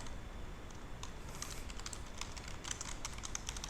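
Keys on a computer keyboard are typed during Python setup, a quick irregular run of light clicks, close and faint over a low background hum with no talk.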